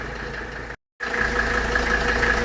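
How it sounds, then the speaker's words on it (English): A 1983 Mercedes 300D diesel engine idling, a steady close rumble with a brief dropout in the middle before the idle resumes unchanged. "while I'm waiting for the engine to come up to temperature"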